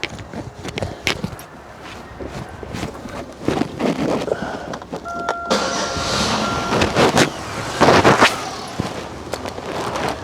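A car engine being started with its suspected crank sensor issue, cranking and catching into a rough, uneven run with clattering bursts that swell louder toward the end, no voices.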